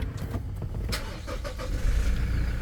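A 2019 Toyota Land Cruiser Prado VX engine starting from inside the cabin: a few light clicks, then a low engine rumble that swells near the end.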